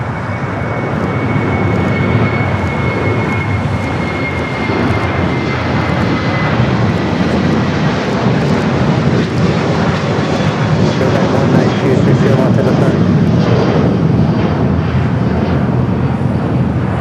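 An airliner at LAX powers down the runway and lifts off early, its engines a loud, close, continuous roar with a thin whine fading in the first seconds, wind buffeting the microphone throughout.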